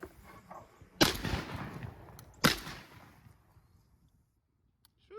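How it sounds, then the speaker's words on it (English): A Benelli M4 shotgun fires two shots outdoors, buckshot first and then a slug, each a sharp blast with a short decaying tail, about a second and a half apart, followed by quiet. "The first shot was a buckshot, then a slug."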